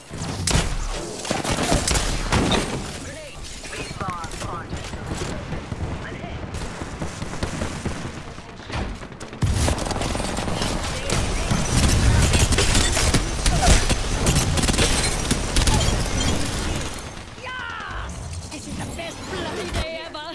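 Continuous gunfire, with sustained automatic bursts and heavy impacts, fills a fast firefight in the video game Apex Legends, loud throughout and mixed with a player talking and game voice lines.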